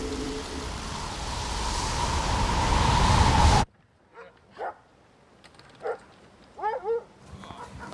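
A roaring wash of wind or motion noise drops away to quiet, then sled dogs give a few short scattered yips and whimpering barks at moderate distance.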